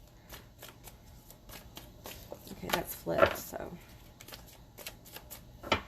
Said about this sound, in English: let me shuffle this deck up a couple times